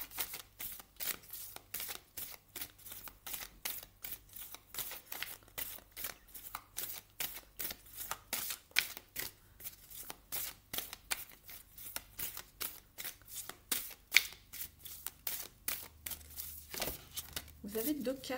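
Oracle cards being shuffled by hand, a long run of fast rhythmic riffling snaps that goes on for the whole stretch, close and crisp, with a voice talking over it.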